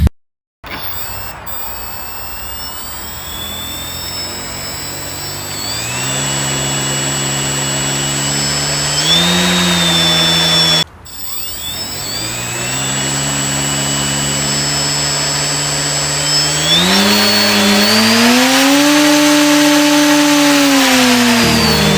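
Homemade drone with homemade motors and propellers on a test flight, a loud, close, sustained high whine that rises and shifts in pitch as the motors throttle, cutting out briefly midway before spinning up again.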